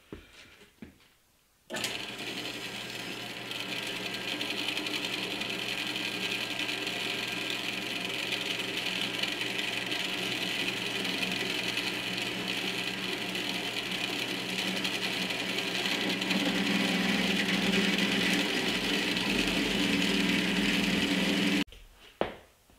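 A bandsaw cuts through a metal hydraulic cylinder part held in a strap clamp. It gives a steady, loud mechanical whir with a grinding edge that runs unbroken for about twenty seconds, then stops abruptly. No one speaks.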